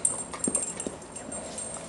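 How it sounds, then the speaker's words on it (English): A dog licks at close range during a front brake job on a Honda Rancher ATV, giving a few soft, wet slurping bursts over a quiet background in under two seconds. "Dog licking me."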